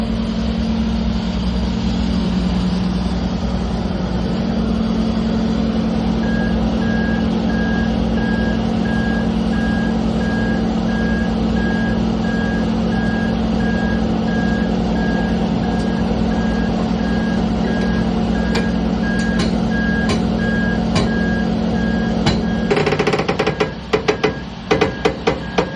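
A loaded semi truck idles with a steady low diesel hum and a repeating reversing beep, then gets under way near the end with a burst of air hiss and clattering.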